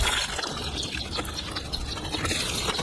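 Water left in swimming pool pipes drains out while a sand filter pump is taken apart, a close, quiet splashing trickle and gush that runs continuously with small drips and no speech.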